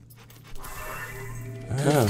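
A dog panting in the Fable II video game, a steady breathy rhythm that swells louder toward the end, with a faint background of game ambience.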